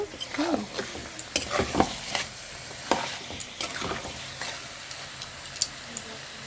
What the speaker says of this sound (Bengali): এটা অনেকটাই ভাজা হয়ে গেছে।